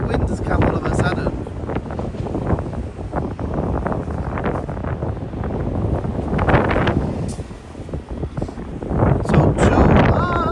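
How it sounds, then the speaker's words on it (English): Strong wind gusting across a microphone in the middle of a bridge in Tokyo, loud rumbling buffets that rise and fall throughout, with a voice talking underneath. "The wind has come all of a sudden."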